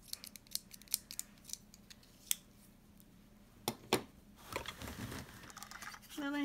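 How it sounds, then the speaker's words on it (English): Small scissors being handled and snipped among art supplies, a few sharp metallic clicks and snips spaced apart, followed by rustling and shuffling near the end. "Oh, I have my my little scissors here."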